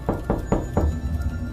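A hostel room door is knocked on again, three firm evenly spaced raps up close, followed by a quiet pause.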